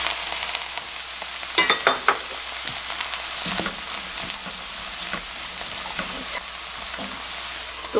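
Onions stir-fry in a pan with jjajang powder and soaked dried squid, giving a steady sizzle and crackle with a few sharp clatters of stirring early on and no talk.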